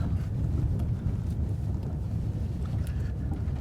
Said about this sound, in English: you can hear the pumping noise, so the ABS I think it's doing something funny